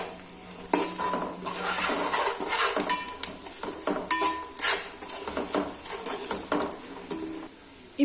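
Vermicelli upma being stirred in a metal pan, with repeated close clinks and scrapes of a spoon against the pan over a faint sizzle, no voices.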